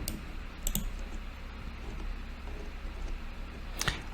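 Mouse clicks in a Unity editor, a couple of short sharp clicks early on and another pair near the end, close and fairly quiet over faint room hiss with no talking.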